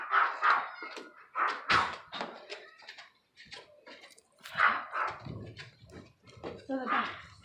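A dog barks in short sharp bursts, several yaps spaced irregularly, mixed with thumps and slams close by while people talk over it.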